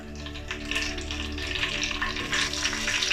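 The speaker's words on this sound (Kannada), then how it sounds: "ಜೀರಿಗೆ ಸ್ವಲ್ಪ, ಮತ್ತು ಕರಿಬೇವು ಹಾಕ್ಕೊತೀನಿ." Cumin seeds and curry leaves fry in hot oil for a peanut thambuli tempering, a close, steady crackling sizzle throughout with no talking.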